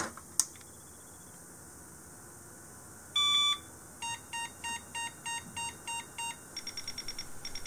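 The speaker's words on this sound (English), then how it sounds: "And we have one long and 8 short beeps." Electronic beeps from a 386 computer mainboard POST: one long tone followed by a run of eight short evenly spaced beeps, then a quicker burst of short beeps, over faint background hum.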